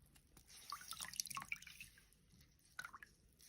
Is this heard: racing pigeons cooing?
no